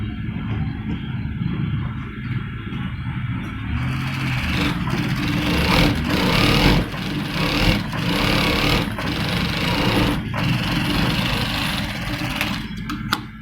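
A sewing machine runs steadily while stitching the collar band of a gents' kameez, a close continuous mechanical whir and hum with faint rhythmic clatter and occasional clicks as the fabric is handled.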